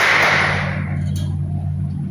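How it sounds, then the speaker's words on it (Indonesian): A classroom of students claps hands once together, a sharp, loud crack of many palms at the start that quickly fades to a quiet room with a low electrical hum underneath. "Sekarang coba kalian tepuk tangan 1 kali."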